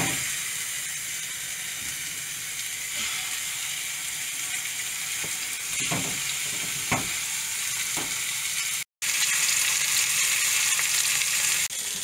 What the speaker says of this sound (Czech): A kuřecí hodíme na pánvičku.